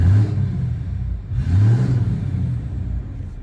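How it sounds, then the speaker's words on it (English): A 6.7 Cummins diesel pickup with a 5-inch Dynovox exhaust revs twice in quick succession, each rise swelling into a deep, loud roar before settling back toward idle. "I'm gonna rev it up a little bit."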